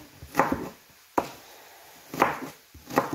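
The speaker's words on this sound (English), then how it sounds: "just going to chop that up" A knife chops through an onion on a board in a home kitchen, four or five sharp, close thuds spaced irregularly with quiet gaps between strokes.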